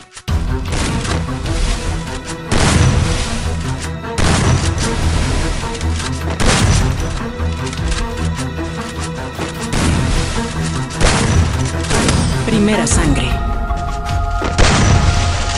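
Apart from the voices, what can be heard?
gunshots from a video game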